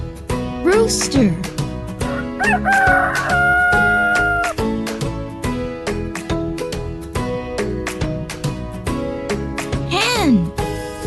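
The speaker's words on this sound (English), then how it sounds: "Rooster." A rooster crows loudly with a long, drawn-out cock-a-doodle-doo, heard close over bright background music with chiming notes.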